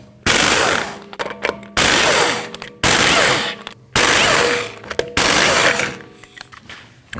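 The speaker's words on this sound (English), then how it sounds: "you need to remove your 5 3/4-inch lug nuts" An impact wrench rattles in five loud, close bursts of about a second each as it removes the lug nuts from a 2013-2019 Ford Escape rear wheel, with short quiet gaps and small clinks between bursts.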